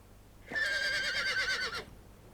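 A single loud, close horse whinny, a shrill quavering call lasting over a second, then quiet.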